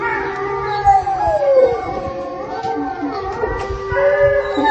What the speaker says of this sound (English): All the neighbors' dogs are howling,